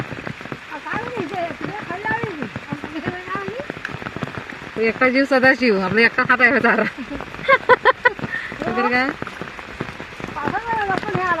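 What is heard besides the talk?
heavy rain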